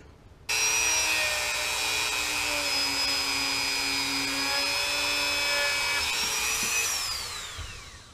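A power tool with a polishing attachment runs on the loading port of a Mossberg 930 JM Pro shotgun, a steady loud whine that starts abruptly, holds its pitch, then drifts and fades near the end, with no talk.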